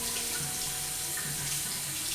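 Water running from a tap over a freshly shaved head in a sink, a steady, close rush of splashing with no breaks and no talking.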